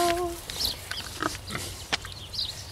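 Pigs oink in a few short grunting bursts spread through a farmyard scene, with faint bird-like chirps and light background noise.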